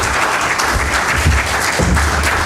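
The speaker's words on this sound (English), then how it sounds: "let's give them a round of applause, everyone" Brief burst of audience applause for a panel of candidates at a forum for Washington State representatives, dense steady clapping from a crowd throughout with no talk.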